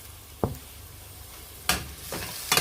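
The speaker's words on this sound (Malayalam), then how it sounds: "ഈ തക്കാളി കൂടി ഇതിനകത്ത് കിടന്നിട്ട് നന്നായിട്ടൊന്ന് വഴന്ന് വരട്ടെ." Cut tomato sautés in a pan for a chicken curry, with a few short bursts of stirring and sizzling scrapes, one early and a cluster near the end, over a low quiet background.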